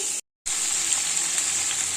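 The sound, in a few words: potato and pointed gourd frying in a pan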